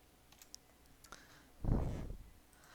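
Keys tapped on a computer keyboard while entering a MySQL root password: a few faint isolated clicks, then a short burst of quicker, louder keystrokes, close by with no talking.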